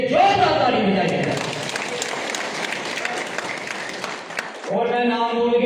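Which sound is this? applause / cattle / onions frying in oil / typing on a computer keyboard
applause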